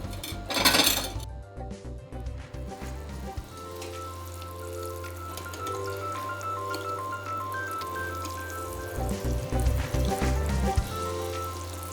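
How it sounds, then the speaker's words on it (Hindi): Food sizzles steadily in hot oil in a pan, likely round millet koftas, with a soft continuous crackle under low kitchen hum and a sharp clatter near the start, no voices. "चलिए, अब इसको कर लेते हैं फ्राई।"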